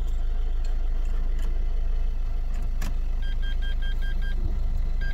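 A Renault Scénic 2 engine idles steadily just after starting, a low even hum throughout with a few faint electronic beeps and small cabin clicks over it.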